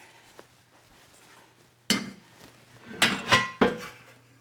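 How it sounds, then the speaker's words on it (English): Eggs and a colander are set into a Dutch oven in a kitchen, giving a few sharp knocks and clatters of metal and cookware at close range, spaced out over a quiet background hum. "I take my Dutch oven and I put a colander in it and I load my eggs in"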